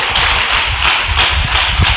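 A church congregation claps together in loud, steady applause that fills the whole moment, dense and close with no talking over it.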